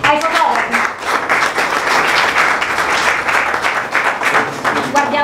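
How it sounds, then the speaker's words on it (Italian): An audience applauds the photographers at an awards event in Somma Vesuviana, loud, lively clapping that swells and dips, with voices talking over it. "facciamo un applauso ai fotografi."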